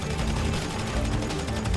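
Gunfire in GTA 5 Online comes as a dense, continuous rattle of rapid shots over a deep rumble, loud and close throughout.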